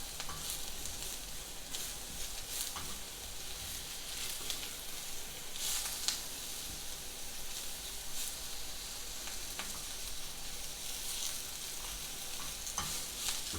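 Steady sizzling and crackling of champignon mushrooms frying in vegetable oil, with occasional sharper pops and stirring scrapes, continuous and close.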